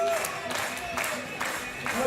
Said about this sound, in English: Let's give him a clap, come on!